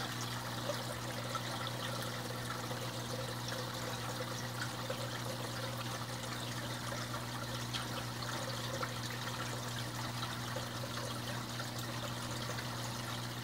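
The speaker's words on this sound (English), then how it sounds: "this is about full suction on the auto siphon right here" Water draining through an auto siphon in an indoor aquarium aquaponics setup, a quiet continuous trickling and gurgling rush with a steady low hum beneath, unchanging throughout.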